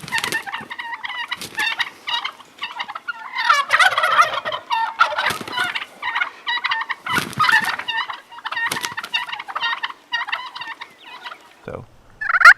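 A striker drawn across a turkey call produces an excited fighting purr: rapid, uneven bursts of rolling purrs and sharp clucks of varying length, close and fairly loud against silence.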